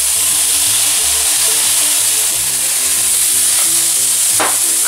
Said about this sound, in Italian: andiamo ad aggiungere i pomodorini.